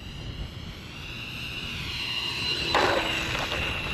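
A Freewing F22 64mm electric ducted-fan RC jet comes in to land on a gusty day, its whine building steadily and peaking with a brief louder pass near the end, with no talk.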